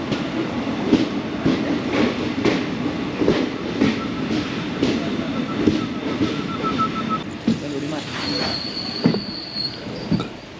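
An Indian passenger train pulls into a station on the Mumbai to Gokarna route, with a continuous loud rumble of wheels, rhythmic clickety-clack over rail joints and high brake squeals toward the end.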